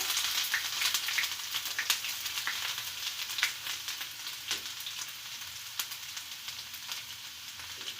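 Chopped garlic sizzles in hot oil with mustard seeds for a garlic pickle, a steady bright crackling fry with scattered sharp pops, close and continuous with no talk.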